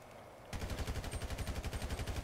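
Rapid automatic gunfire from GTA 5 Online starts abruptly after a brief quiet moment, then runs as an even stream of sharp, evenly spaced shots, fairly faint in the mix with no voices.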